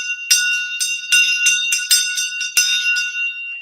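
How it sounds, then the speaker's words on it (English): A Tibetan shang bell rings during Chod meditation, a rapid series of bright, clashing metallic strikes with a steady high ringing tone that sustains between hits, close and alone. "the shang bell"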